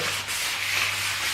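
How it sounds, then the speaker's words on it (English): Garlic and herb bread is rubbed across a baking tray, a steady soft scraping and rubbing sound close up, with no voices. "this is a garlic and herb bread, this is perfect to just grease my baking tray with"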